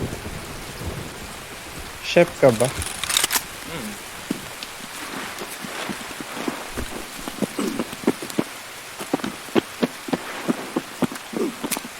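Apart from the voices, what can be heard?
heavy rain with thunder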